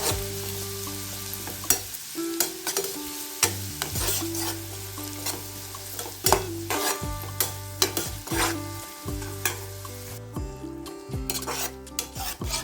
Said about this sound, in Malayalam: വെച്ച ക്യാരറ്റ് നമുക്കിതിലേക്ക് ഇട്ട് കൊടുക്കാം. നമുക്ക് നന്നായി ഒന്ന് ഇളക്കി മിക്സാക്കി എടുക്കാം.